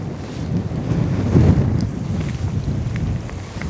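Strong wind on the Mediterranean coast during a fishing outing buffets the microphone in a steady, rough roar that surges midway, with no voices.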